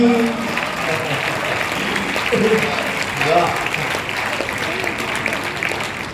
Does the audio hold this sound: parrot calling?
no